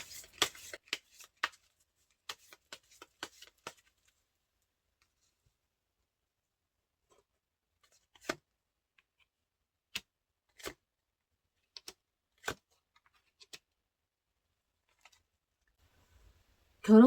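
Tarot cards for a marriage reading are shuffled in a quick run of soft riffling flicks, then drawn and laid down in a few sparse, isolated snaps and taps, with a louder rustle at the very end and no one talking.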